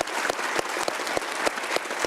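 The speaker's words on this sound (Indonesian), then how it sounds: "Tepuk tangan sekali lagi buat Pak Iwan." An audience claps steadily at a talk show about debt, the applause brisk and dense with sharp individual claps standing out throughout, with no voices over it.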